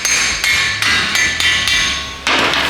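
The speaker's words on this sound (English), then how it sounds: "I'll hit the outside of the CV where we started to free it up before." Hammer blows striking the outer end of a CV axle on a Nissan NP300 with independent front suspension, driving it free of the splined steering knuckle; five loud, evenly spaced metallic strikes, close up, with no talk.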